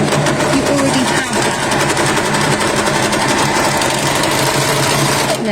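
An overlocker stitches straight through the corner of a fabric pocket-bag piece, its motor chattering loud and close in one continuous, unbroken run.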